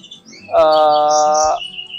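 A single drawn-out call from a jalak suren, the Javan pied starling: a clear, harmonically rich note held for about a second, close and loud, with faint higher chirps around it.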